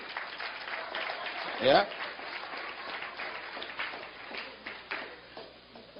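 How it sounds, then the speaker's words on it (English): A sermon audience claps and applauds, with a bright burst near the start and then a scattered patter of clapping beneath a speaking voice. "Come on, clap so no one can look at you."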